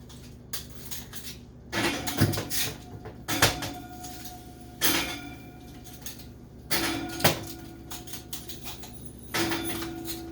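Ice cubes tossed into a hot oven when baking whole wheat bread, several sharp clattering and hissing bursts spaced a second or two apart over a steady hum, with no voices.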